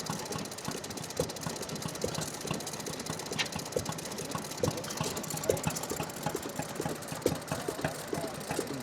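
A small water-cooled two-stroke Villiers engine runs steadily at a vintage engine rally, a close, even ticking putter with no voices.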